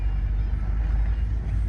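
Ford BF XR6 with a 2.5 Barra engine swap idling smoothly, a steady low rumbling hum with no misses or knocks, heard from inside the car.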